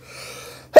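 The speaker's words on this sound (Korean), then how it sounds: "죄송합니다. 재채기가 나왔어." A single sharp sneeze bursts out at the very end, loud and close, after a brief quiet hum.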